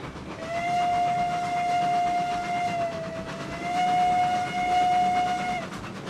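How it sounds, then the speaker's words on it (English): Train in the Railroads Online video game rolls along steadily with a rumbling run, while a long sustained whistle blows twice, pausing briefly in between, fairly loud and close. "How do I make the train louder?"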